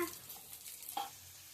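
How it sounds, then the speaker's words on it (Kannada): Chopped onions frying in butter in a pan for pasta give a soft, steady sizzle with a faint clink of stirring, quiet and brief, with no voices. "ಆನಿಯನ್ ಹಾಕೋಣ. ಇದು ಇವಾಗ ಫ್ರೈ ಮಾಡ್ಕೊಳ್ಳೋಣ."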